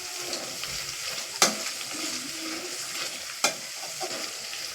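Cumin, cashews, mint and onion frying in a pan for ghee rice, a steady close sizzle with a couple of sharp clinks as a spoon stirs.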